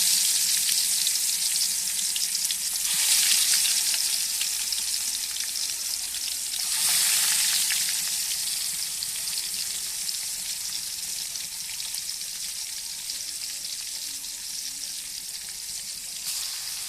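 Pangas fish frying in oil over a clay stove, a loud continuous crackling sizzle close up that swells twice as pieces shift, with faint scraping underneath and no talking.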